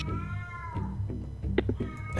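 A cat meows in a drawn-out, wavering cry followed by a few shorter, sharper mews, close and fairly loud over a low background hum.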